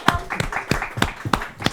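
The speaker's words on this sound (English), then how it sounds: "Round of applause for Diego." A few people clap for a presenter at a session on Modo in advertising and marketing, a handful of close, distinct claps in an uneven rhythm, lasting under two seconds.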